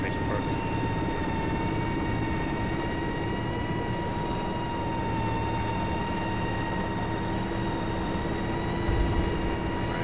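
Helicopter in the military game ArmA 3, a steady droning rotor and turbine whine with sustained high tones, constant and loud across the whole stretch with no voices.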